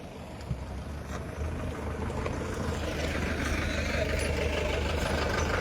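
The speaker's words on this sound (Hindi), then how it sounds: "ये देखिए कब गाड़ी आई है, कैसे जा रही है" A truck drives along a badly potholed road with holes a foot or more deep, its engine a steady low rumble that grows louder and nearer over several seconds.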